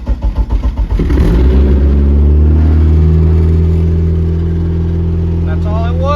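A Dodge SRT-4 engine swapped into an Eclipse and running on MegaSquirt cranks in rapid pulses for about a second, then catches and settles into a loud, steady, close-up idle rumble.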